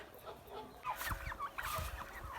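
Domestic turkeys cluck and chatter softly as they are herded in, several birds calling in short overlapping bursts, fairly faint, with no voices.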